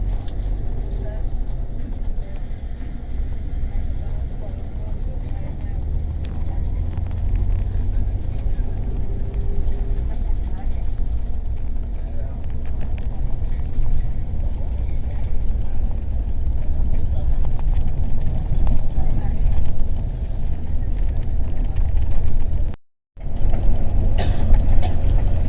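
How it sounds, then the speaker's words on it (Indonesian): Steady low engine drone and road rumble from inside an old coach bus on the Batang section of the Trans-Java toll road, continuous and moderately loud with wind buffeting, a brief dropout near the end. "Bus akan masuk tol lagi, tol Batang, tol Trans Jawa"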